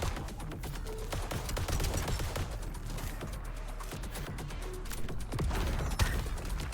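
Hip-fire gunfire in the VOID/BREAKER video game comes in dense, crackling bursts of rapid shots, sustained and fairly loud, with sharp individual reports standing out from the clatter.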